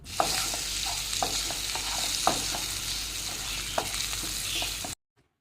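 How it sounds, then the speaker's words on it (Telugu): Green chillies and curry leaves sizzle loudly in a hot pan while a spoon stirs and scrapes with a few sharp clicks, steady frying hiss that stops abruptly near the end. "ఇప్పుడు నాలుగు పచ్చిమిరపకాయలు కొంచెం కరివేపాకు వేసి కలపండి"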